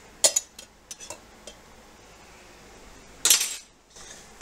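A spoon clattering against dishes while cooking, a few light metallic clinks and knocks early on, then a louder rattling clatter near the end, close and distinct.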